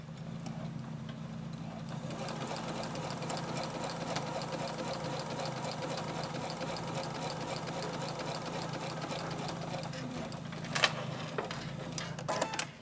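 A sewing machine runs steadily while stitching along a marked line on a quilt binding seam, a close, continuous rapid mechanical whir with regular ticking that starts after a quiet moment and carries on to the end, with a few small clicks near the finish.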